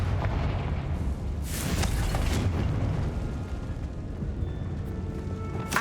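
Confringo blasting spell explosion in Hogwarts Legacy inside a tomb: a moderate, muffled burst with a low rumbling tail under steady background noise, fairly distant-sounding rather than sharp.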